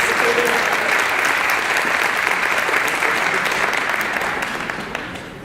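Sustained applause from an audience at a Martin Luther King Jr. community breakfast in Hamtramck, loud and steady throughout, tapering slightly toward the end.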